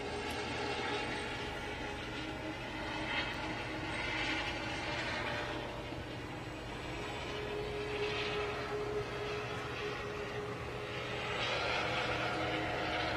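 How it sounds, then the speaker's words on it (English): A helicopter flies over a launch complex at Kennedy Space Center, a steady, continuous rumbling roar with faint rhythmic chopping that stays fairly even throughout, with no voices. "you can hear the helicopter overhead"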